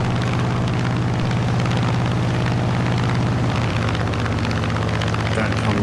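The piston engine of an F6F Hellcat propeller fighter drones steadily and loudly in Microsoft Flight Simulator during a landing approach, with no one speaking over it.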